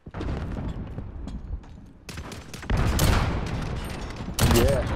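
Grenade blast and gunfire in the shooter game Call of Duty: Modern Warfare, with a dense barrage of shots and bursts, a heavier boom near the end, and game voices mixed underneath.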